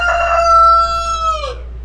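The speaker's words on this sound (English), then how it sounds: "sorry about the rooster" A rooster crows once on a farm that also keeps chickens and turkeys, a long clear harmonic call held steady then dropping off at the end, loud and close with no voices.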